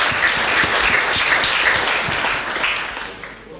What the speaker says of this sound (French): Je pense qu'on peut t'applaudir pour...